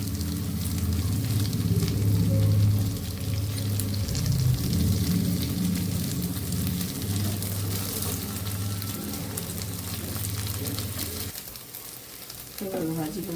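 Paneer koftas fry in hot oil in a pan, giving a steady, dense sizzle and bubbling that carries on throughout, close and fairly loud, with faint stirring.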